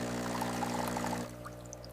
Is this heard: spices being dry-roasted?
no